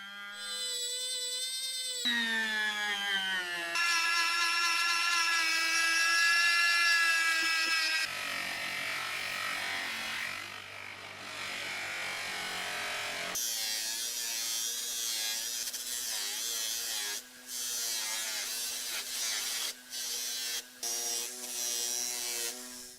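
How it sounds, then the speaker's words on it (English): A rotary tool whines steadily as it polishes metal parts of a 60-year-old French-made Moulinette food mincer, its high pitch shifting several times as the load changes and briefly cutting out near the end. "I'm using the rotary tool on the bits that I can't get to with the bench polisher."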